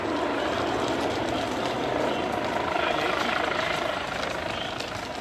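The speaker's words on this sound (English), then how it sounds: "There's the helicopter again." Helicopter flying overhead in Toulouse, France, a loud continuous rotor chop and engine whine that swells slightly in the middle and then eases off.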